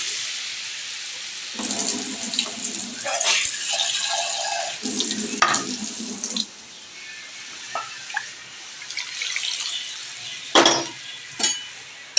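Boiled lentils and potatoes are poured into a pot in a kitchen, giving wet, splashing slurps and a few clinks from the pot and utensils, loudest at the start and then tapering to scattered drips and knocks.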